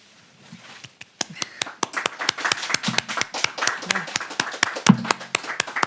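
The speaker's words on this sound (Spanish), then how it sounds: "No es necesario que aplaudan, pero gracias." A small audience claps steadily after a poetry reading at a bookstore. The claps are sharp and close, and they build into an even, rhythmic patter that lasts several seconds, with a faint voice underneath.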